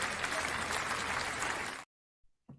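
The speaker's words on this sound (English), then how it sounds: "let's clap it up" A crowd claps and applauds steadily for close to two seconds, then cuts off sharply into silence, followed by a faint brief noise near the end.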